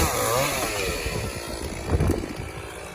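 A Stihl MS460 chainsaw bucks an elm tree outdoors, its engine whining close and loud in a steady rasping drone, with pitch dipping and rising as the chain bites the wood.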